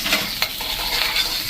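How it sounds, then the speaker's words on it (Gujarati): Green chillies crackle in hot mustard oil for a kadhi pakora tempering, a steady close sizzle with one sharp pop near the start and no talking. "અને હવે આ વઘારને આપણે સહેજ ક્રકલ થવા દેશું।"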